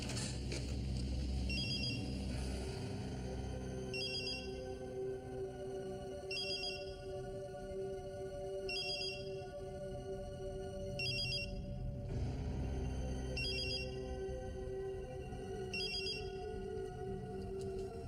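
A telephone rings in repeated evenly spaced bursts of bright warbling trills, about every two seconds, clear over a steady background hum with no talking.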